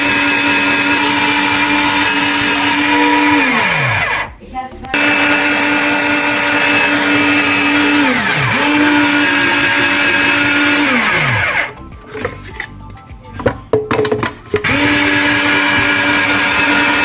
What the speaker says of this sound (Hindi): मशीन से बहुत जल्दी कद्दूकस हो जाती है।